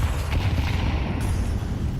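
A dense, rumbling roar of grenade explosions in a video game fills the whole clip, deep booms blending into a continuous heavy wash of game-style blasts.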